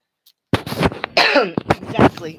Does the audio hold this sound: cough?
yes